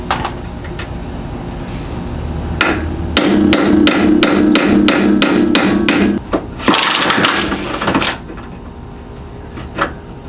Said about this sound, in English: I know I wasn't supposed to be using the hammer